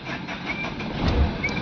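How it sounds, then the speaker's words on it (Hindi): A Tata Safari Dicor 2.2 diesel engine cranked by its starter motor and catching again, a steady close mechanical churn that swells toward the end with no talk over it. "एक बार फिर वापस से सेल्फ लगाते हैं बंद करके।"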